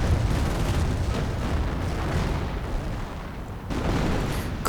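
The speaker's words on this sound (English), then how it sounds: "Heavy artillery going in, blowing up the entire field." Heavy artillery fire and explosions in a World War II strategy game rumble continuously, a dense wall of deep booms and blasts blending together with a sharp burst near the end, no speech.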